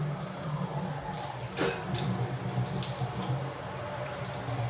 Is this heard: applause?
no